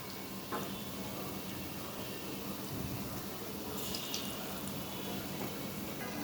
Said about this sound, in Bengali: একসাথে সবগুলো ভেজে নিই।